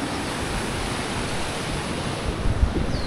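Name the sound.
strong ocean waves and current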